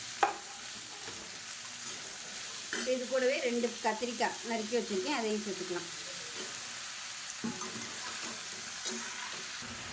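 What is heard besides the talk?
sautéing vegetables in a pan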